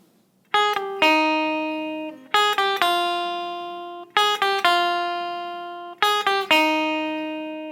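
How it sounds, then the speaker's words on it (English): A clean electric guitar plays a closing lick, a repeating phrase of plucked ringing notes heard four times with short pauses between, clear and alone. "the last thing that the guitarist does is at the very end when everything is fading out and the guitar is doing this little lick"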